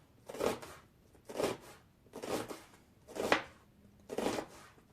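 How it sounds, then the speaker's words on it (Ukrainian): A knife slices an onion into thin half-rings, five crisp cuts landing at an even, unhurried pace against a board, close and clear with no voices. "Швиденько півкільцями нарізаємо цибулину."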